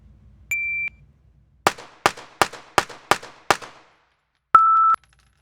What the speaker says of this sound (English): You heard the beep quite a while, a good half second after I stopped shooting.